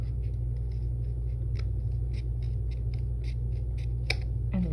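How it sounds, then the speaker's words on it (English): Scissors snip through a strip of paper trimmed from a handmade storybook box, with a series of small, sharp cuts close by over a steady low hum, one crisper snip standing out near the end. "And then I just come with my scissors"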